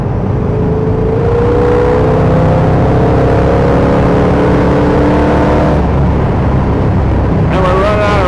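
A 1956 Chevrolet Bel Air two-door hardtop cruises on the road, its engine droning steadily and loudly from inside the car, with rising and falling tones and some talk over it.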